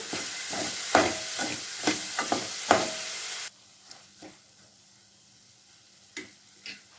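Soy chunks sizzle and are stirred in a hot pan with scraping, clattering strokes, loud at first, then a quieter hiss with occasional taps.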